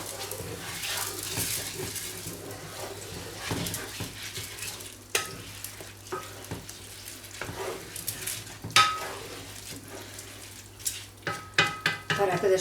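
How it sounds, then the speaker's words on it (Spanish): Rice sautéing in a pan for octopus in ink gives a continuous sizzle, with intermittent scraping and clinks from stirring that grow busier toward the end. "y ahora el arroz, que también lo rehogamos"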